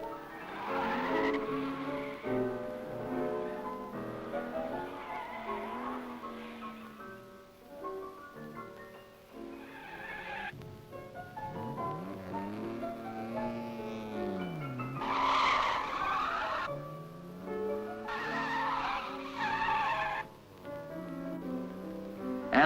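Cars skid on a skid patch at London Transport's Chiswick Works, with tyres squealing in repeated wavering, pitch-bending howls over a steady rumbling background for most of the stretch.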